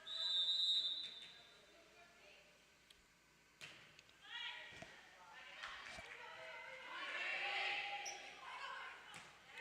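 A referee's shrill whistle cuts through a school varsity volleyball match in a gym, with short blasts near the start and again later, amid ball thumps, squeaking shoes and crowd noise.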